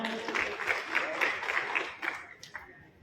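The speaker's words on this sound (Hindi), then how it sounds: "मैं भीम भाई के लिए जोरदार तालियां।" Loud applause from a gathered crowd at a state-level organizational meeting as the next speaker is called up, sustained dense clapping that gradually thins toward the end.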